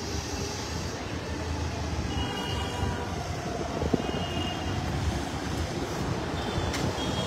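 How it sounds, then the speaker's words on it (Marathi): Strong, gusty wind sweeping through Thane makes a steady, loud broadband roar with no break for the whole stretch and no voices. "या ठिकाणी सोसाट्याचा वारा सुटलेला आपल्याला पाहायला मिळतोय"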